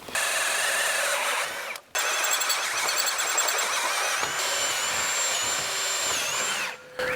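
A power drill whirs loudly and continuously, briefly stopping twice and then spinning up again, with no talking.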